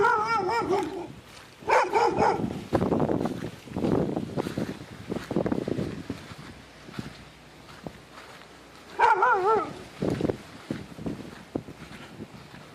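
A dog barks in short, loud bursts with some whimpering yips, close by in a yard strewn with debris after a hurricane, repeating in two clusters separated by a quieter stretch.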